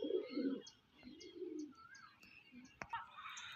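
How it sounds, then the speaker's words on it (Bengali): Pigeons coo in low, soft rolling phrases, a couple of bursts close by with faint chirps and other bird calls scattered behind them. "একখানা পায়রা দেখাচ্ছে দেখুন মন ভরা পায়রা"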